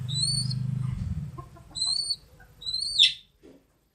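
Domestic pigeons in a coop with newly weaned squabs: a low burbling coo opens, followed by several thin, high squeaky peeps, close and fairly quiet, ending in silence.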